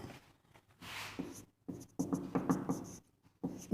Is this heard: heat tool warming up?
no